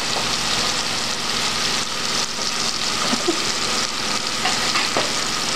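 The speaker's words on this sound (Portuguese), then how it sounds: "Agora vamos refogar." Onion sautés in a pan for a salt cod filling, a steady loud sizzle with occasional stirring clicks and scrapes.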